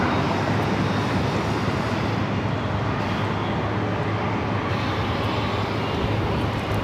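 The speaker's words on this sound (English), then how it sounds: "The Viva Aerobus A320 making the right-hand turn." A Viva Aerobus Airbus A320 taxiing and turning at LAX, a loud continuous jet engine rumble and roar with broad steady noise throughout, no voices.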